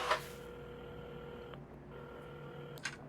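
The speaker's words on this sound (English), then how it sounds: "at the counter, Carmen had started dialing the phone" Telephone keypad beeps in the video game Assemble With Care, two sustained electronic tones with short gaps between them, fairly faint over a quiet background.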